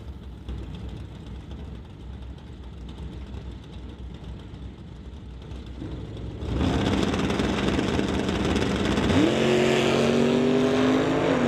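A Dodge Dart and a GMC Sonoma launch side by side at a drag strip, a low engine rumble swelling into a loud, sustained roar with a rising engine whine as the cars accelerate.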